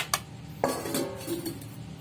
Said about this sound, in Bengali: তো এবার এটা ঢেকে আমি আধা ঘন্টা রেখে দেবো।